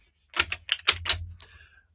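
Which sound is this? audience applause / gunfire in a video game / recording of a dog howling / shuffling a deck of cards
shuffling a deck of cards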